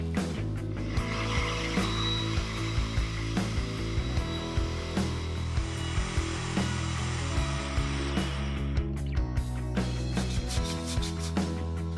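A wood router rounds over the inside lip of a timber dish, a steady whining motor hum broken by a rhythmic series of light ticks and clicks as the bit works around the rim.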